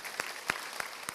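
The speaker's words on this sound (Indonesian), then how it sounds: "tepuk tangan sama Tuhan Yesus." A church congregation claps at a service: four separate hand claps spaced about a third of a second apart, faint and slightly distant, over a quiet room tone.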